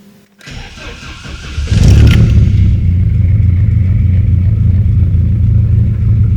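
A 1991 Opel Astra GSi hot hatch cranks and fires up close by, the starter catching after a quiet moment, then the engine settles into a steady, loud idle rumble with no talk.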